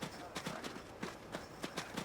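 Horse hooves clop in an uneven trotting rhythm in a video game, fairly quiet, with faint background ambience and no clear talk.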